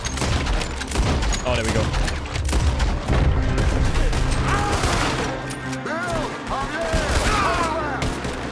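Dense, sustained video game gunfire with rapid overlapping shots and bursts, as a firefight at balconies in a Western shootout, running loud throughout while someone talks excitedly over it.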